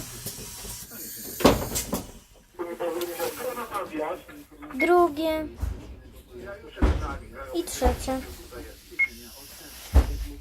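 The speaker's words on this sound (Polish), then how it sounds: "Tu mamy po kolei przyciski do otwierania drzwi po kolei. Możemy sobie otworzyć pierwsze." Pneumatic doors on a Mercedes Citaro bus open one after another, each marked by a sharp hiss and thud, with someone talking between the door movements.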